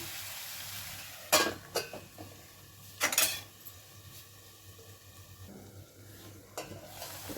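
Potatoes frying in a pan for an aloo fry, with a utensil stirring and scraping against the pan in a few sharp bursts over a steady sizzle.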